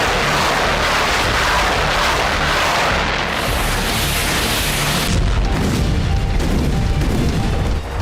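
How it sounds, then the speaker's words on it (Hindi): Heavy Russian artillery shell blast at a Ukrainian ammunition depot hidden in a forest, a continuous loud roar of exploding munitions with a deeper booming surge partway through, no voices. "पहले रूसी आर्टिलरी के शेल का धमाका हुआ और पहली चिंगारी के साथ फट पड़ा कई टन बारूद"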